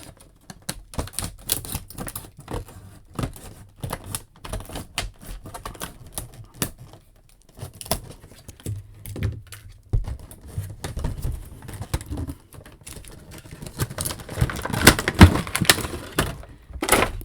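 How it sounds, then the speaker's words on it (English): Scissors cut through sharp-edged plastic packaging on a vintage Toybiz Marvel Legends action figure, a close run of crisp snips and crackles that grows busier and louder toward the end, with no talking. "I have no problem just using these scissors"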